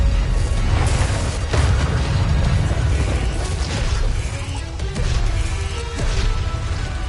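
Confringo blasting spells from Hogwarts Legacy go off in a dense, continuous barrage of loud explosive booms and crashes, one blast piling onto the next with no quiet gaps.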